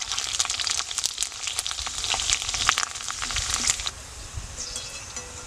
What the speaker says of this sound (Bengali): তেলটা গরম হয়ে গেছে, আমি ফুচকাগুলো দিয়ে দিচ্ছি।